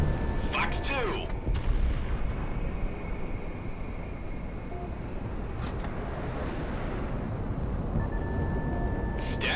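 Missile launch in the Project Wingman flight game, a loud whooshing rush over a constant roar of jet engine noise, with sharp higher-pitched cockpit tones and brief bursts appearing near the start and end.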